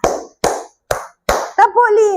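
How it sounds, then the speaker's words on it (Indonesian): Children clap their hands in a counted rhythm: four crisp, evenly spaced claps sound close and loud, then a voice begins speaking. "tepuk 1, tepuk 2, tepuk 3, tepuk 4,"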